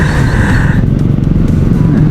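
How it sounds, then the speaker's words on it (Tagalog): Road traffic in Makati rumbles around an e-bike rider as a loud, continuous roar of car and motorcycle engines and wind, with no clear gaps. "Medyo traffic tong araw na to."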